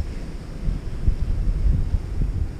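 Wind sweeps across an open strip mine on a cold day, buffeting the microphone with a low, uneven rumble that swells and eases in gusts.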